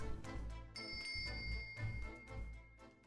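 A bell rung in The Great Ace Attorney, a bright ringing tone that chimes and sustains for a couple of seconds, fairly quiet against a soft background.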